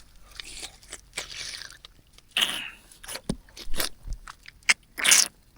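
Crunchy chewing of kinilaw, the Masbate raw fish dish, with close, irregular crisp bites and crackles coming in several bursts, the loudest near the end.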